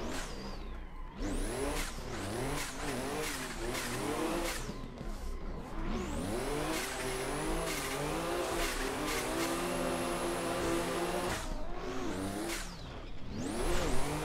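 A Toyota Chaser drifting in Assetto Corsa, its engine revving hard and bouncing off the limiter through repeated gear pulls, with tire squeal layered over the continuous loud mechanical roar.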